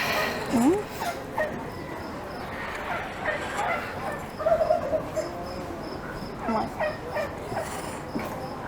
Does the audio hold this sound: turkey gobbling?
yes